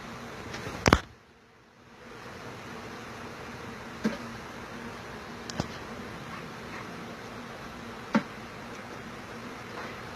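Live bees are removed from a house soffit, and their continuous buzzing drones at a steady moderate level. Occasional sharp knocks and clicks from the removal work cut through the buzzing, and there is a brief dip near the start.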